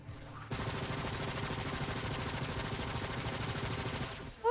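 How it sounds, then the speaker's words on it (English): Sustained gunfire from enemies in a video game, a dense, steady barrage of rapid shots running for several seconds at constant loudness, cutting in abruptly after a quiet start. "Oh, they're shooting at me!"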